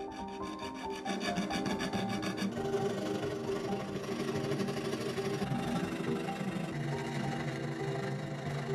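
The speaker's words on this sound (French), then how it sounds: "avons scié notre couteau le long des contours avec une petite scie à" A small fretsaw cuts a LEGO plastic knife along its outline with quick, steady back-and-forth rasping strokes, close and continuous throughout, with no talking.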